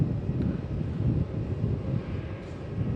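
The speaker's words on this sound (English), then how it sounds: "Let's just watch this arrival. Jetstar 706 from Hobart, A320." A Jetstar A320 arrives at Melbourne Airport, a low, steady jet roar heard from a distance, mixed with wind buffeting against the microphone.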